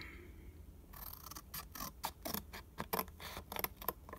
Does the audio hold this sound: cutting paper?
yes